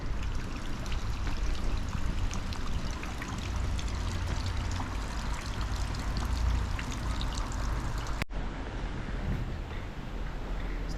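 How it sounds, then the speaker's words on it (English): Water leaking through a canal lock gate on the Worcester and Birmingham canal pours steadily into the lock, a continuous rushing trickle that stops abruptly near the end. "the gate at the back will leak, and I think that's what's happened here, and so it's very slowly filling itself"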